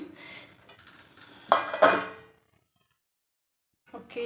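Metal household cooking pots clanging together in a home kitchen, a few sharp bright knocks and a ringing clatter, then silence before more faint handling; a voice speaks at the start.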